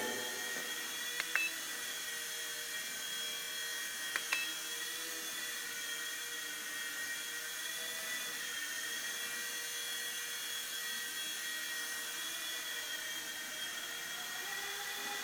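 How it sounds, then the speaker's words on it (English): Steady high-pitched whine of a WLtoys V911 mini electric RC helicopter hovering indoors, with a couple of faint clicks early on. "Now let's have a look at this helicopter. A bit of an indoor flight here."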